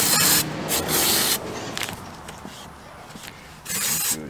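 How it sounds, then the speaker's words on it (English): Bursts of aerosol brake parts cleaner hiss onto a Ford Bantam ROCAM clutch assembly, with one long spray at the start, a longer one near the middle and another at the end, separated by short spurts and quieter gaps. "you can just clean it up with some brake parts cleaner again."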